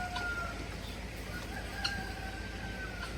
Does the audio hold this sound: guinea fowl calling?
yes